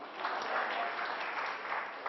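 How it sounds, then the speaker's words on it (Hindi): Audience applause at a live stage event in India, a steady dense patter of many hands clapping for the full two seconds with no pauses. "जोर से इनके नाम की ताली बजा दो"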